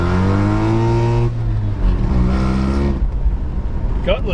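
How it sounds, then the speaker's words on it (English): A rotary-engine pickup truck with a failing exhaust repair revs up with a loud, harmonic drone, then drops off and rises again in rougher, uneven bursts, close to the microphone in cold weather. "Is that our exhaust repair just failing? It sounded louder to me."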